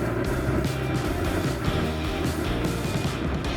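A Ford Roadster cruises in overdrive at 60 mph with the engine at about 1500 RPM, a steady low engine drone heard from inside with road and wind noise and no talking.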